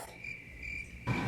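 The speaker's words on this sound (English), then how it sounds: "Crickets." Crickets chirp in a steady high trill that runs through most of the moment, then a louder burst of insect noise swells near the end, with no voices.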